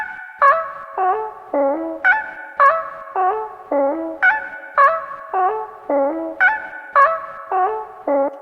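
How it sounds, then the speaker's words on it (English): A cat meow sample, EQ'd into a thin, boxy telephone tone, repeats as a steady rhythmic melodic pattern of short bright calls stepping up and down in pitch. "So I EQ'd it to sound like a telephone."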